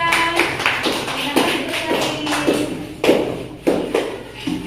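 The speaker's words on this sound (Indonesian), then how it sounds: "Tepuk tangan untuk kelompok 3." Primary school classroom of young pupils clapping for a student group after a math lesson presentation, a run of loose bursts of applause with a few sharper claps, with voices underneath.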